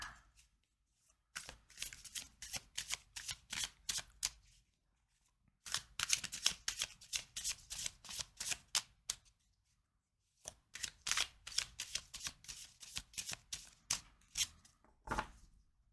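Tarot cards are shuffled in three separate bursts of quick, crisp riffling taps, separated by short pauses, quiet and close with no talking.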